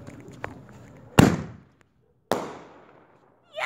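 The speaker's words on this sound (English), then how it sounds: "Fireworks" Fireworks go off at a Fourth of July celebration, two sharp booming bursts with decaying rumbles, separated by a brief quiet gap, followed by the onset of another blast.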